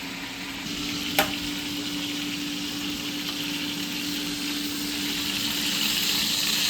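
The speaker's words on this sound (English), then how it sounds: "I'm going to let my bacon brown on this side" Bacon-wrapped chicken sizzling in a pan as the bacon browns, a steady, even frying hiss with a low hum underneath and one brief clink early on.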